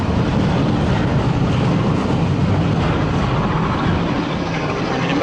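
A train on the East Lancashire heritage railway rumbles along the track near a bridge, a loud, steady, close roar of wheels and carriage noise with no voices.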